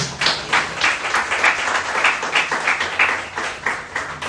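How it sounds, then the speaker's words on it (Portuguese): A church congregation claps in a steady, rhythmic beat at a worship service, loud, close and sustained, each clap falling in regular time with no speech over it. "Você pode então aplaudir ao nome do Senhor?"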